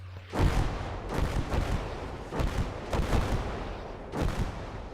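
Mortar fire in the World War II strategy game Gates of Hell, a series of heavy booming blasts at irregular intervals with rumbling decay between them.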